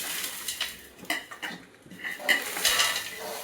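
Mixed poha chivda ingredients are tipped into a large metal pot, making a run of light metallic clinks, scrapes and rattles up close, with no talking.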